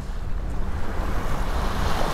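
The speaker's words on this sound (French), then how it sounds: "je sens un peu de vent, dis donc" Wind blows over a sailboat cruising at sea off the French Atlantic coast, near Bourgenay and Port Joinville. It comes as a close, buffeting rush over the microphone, mixed with the wash of waves, and no one speaks.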